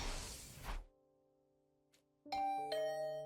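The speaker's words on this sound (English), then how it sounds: "Ding dong? Was that my doorbell?" A two-tone doorbell chimes ding-dong in The Hundred Line: Last Defense Academy, clear and ringing out after a brief whoosh and a short stretch of quiet.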